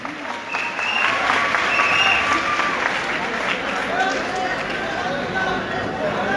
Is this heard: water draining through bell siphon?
no